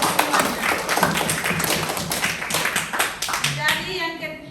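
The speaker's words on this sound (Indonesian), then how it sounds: "Sekarang kita berikan tepuk tangan dulu untuk ketiga kelompok dari kelima kelompok semuanya." Students in an Indonesian classroom clap for the presenting student groups, a dense burst of many hands close by that fades out near the end, with voices mixed in.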